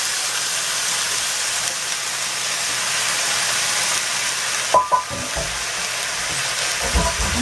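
Potatoes fry in hot oil with roasted seeds, giving a steady close sizzle and hiss throughout, with a few clanks of stirring near the end.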